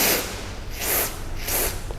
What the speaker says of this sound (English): So I am just going to press this spray bottle.